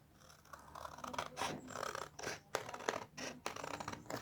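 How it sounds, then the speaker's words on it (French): Scissors cut paper hand shapes for a Father's Day card in a quiet room. The snips come in a slow, irregular series of short crisp cuts, close and soft, with faint paper rustling between them. "ensuite je découpe mes deux mains"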